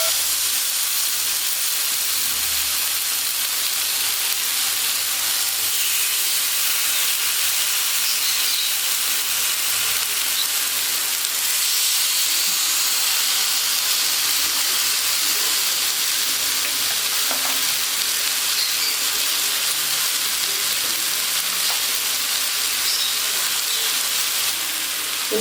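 Six ready-to-cook Amritsari fish tikka pieces fry in a pan, giving a steady, even sizzle and hiss that holds close and constant throughout, with no talking.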